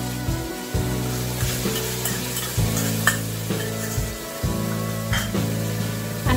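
Ginger garlic paste frying with onion paste in a pan for prawn biryani, a steady close sizzle broken by repeated stirring scrapes at a regular rhythm, with no voices.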